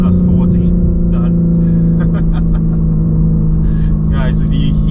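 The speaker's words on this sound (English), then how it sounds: "do you hear the sound of that engine?" A 2022 BMW M3 Competition xDrive G80 engine pulls hard under acceleration, a loud steady drone heard from inside the car, with people talking over it.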